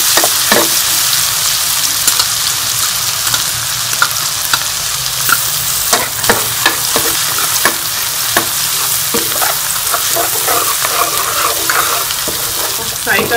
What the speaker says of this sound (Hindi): इसमें हम लहसुन का पेस्ट शामिल कर लेंगे और इसको हम हल्का सा फ्राई कर लेंगे